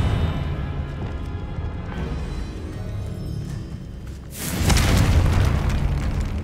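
Confringo fire spell explosion in Hogwarts Legacy, a sudden loud booming blast that rises over steady background game ambience and lingers for about two seconds.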